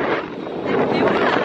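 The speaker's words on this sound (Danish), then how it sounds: "Åh, sikke det blæser." Gusty wind buffets the microphone outdoors during a holiday trip to Mallorca, a steady broadband rushing roar that fills the whole moment without a break.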